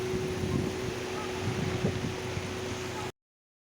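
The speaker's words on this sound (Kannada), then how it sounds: "ನೋಡಿ, ಸ್ಪೀಡ್ ಬೋಟಿಂಗಲ್ಲಿ ಹೋಗ್ತಾ ಇದೆ." A speed boat cruises the Alappuzha backwaters in Kerala in strong wind before rain, with a steady low engine hum under rushing wind noise and faint water splashes, cutting off abruptly.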